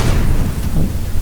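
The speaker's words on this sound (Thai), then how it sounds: "ระเบิด" A loud, boomy explosion from the zombie shooter game The Walking Zombie 2, a dense low rumble lasting about a second with no voices over it.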